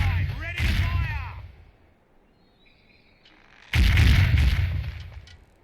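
Cannon broadside firing from a ship in the naval game Sea Dogs, a loud booming burst that rumbles and decays over a couple of seconds, preceded by someone talking and a quiet lull.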